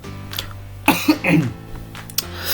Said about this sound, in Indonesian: Mohon maaf sedang batuk ya